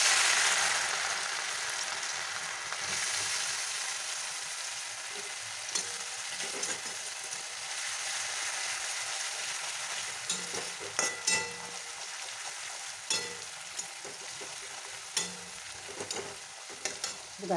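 Shredded potatoes frying in hot oil in a pan, a steady close hiss and sizzle throughout, with occasional soft stirring scrapes and clicks in the latter half.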